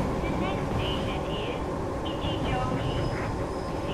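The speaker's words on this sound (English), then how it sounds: "So that train coming towards us is always going to be in that position at that time." An oncoming train passing in a Japanese rail simulator game set on the Kurama Line toward Kyoto, a steady rumbling roll with brief high whining tones, running loud throughout under a voice.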